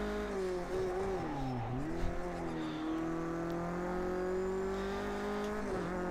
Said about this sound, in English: Now you heard the revs just drop there as I locked up the tyres